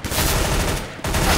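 Rapid gunfire from the tactical shooter CS:GO, a dense burst of shots running close and loud, breaking off briefly before resuming.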